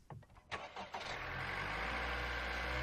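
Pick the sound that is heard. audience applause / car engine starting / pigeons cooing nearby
car engine starting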